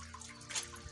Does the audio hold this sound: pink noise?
no